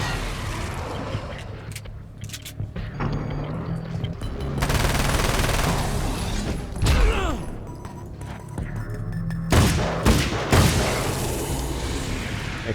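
Gunshots ring out in the game Alan Wake: American Nightmare as loud, sharp single reports and quick bursts among crashes and booms, with a few strong blasts near the end.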